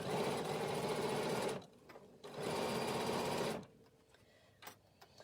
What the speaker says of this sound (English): I'm now just going to stitch around.